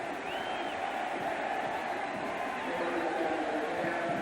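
A dense football stadium crowd at a 1990 Miami vs. Cal game roars in a steady, sustained wash of cheering after a 99-yard kickoff return, heard at a distance with no sharp peaks.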